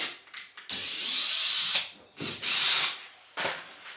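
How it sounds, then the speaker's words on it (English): A power drill runs in several bursts while undoing the screws on a VW Caddy van's custom front bumper, close and loud, with short pauses and stop-start revving between runs. "So we'll go around and undo all the screws now."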